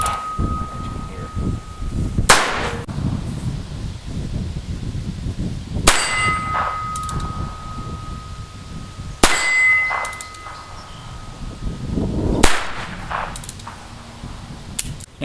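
Sharp gunshots from a .44 caliber black powder revolver spaced a few seconds apart, each followed by a bright metallic ring from a struck steel target in a back yard, with faint talk in between.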